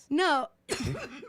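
A woman on a podcast gives a single short cough right after a brief spoken word, close to the microphone.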